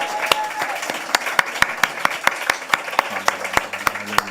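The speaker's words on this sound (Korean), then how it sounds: "우리의 모든 사랑을 담아서 박수 올려드리겠습니다" A church congregation at a Friday worship service claps, with distinct sharp claps in an uneven rhythm over a softer bed of applause, and a low hum entering toward the end.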